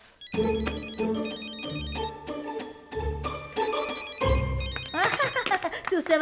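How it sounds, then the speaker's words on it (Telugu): A mobile phone ringtone plays loudly in a hospital during duty hours, a bright repeating melodic tone that keeps going, with brief voice sounds over it toward the end. "రింగింగ్స్"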